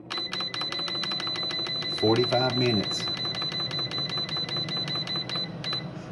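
An air fryer's timer being set gives a rapid, steady train of high electronic beeps and ticks that runs throughout. A person talks over it partway through.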